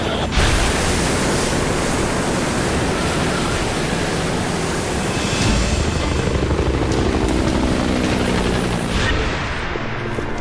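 Rescue helicopter hovering above a swimmer and survivor in the water, a loud continuous rotor and engine roar with rushing wash, steady throughout and with no talking.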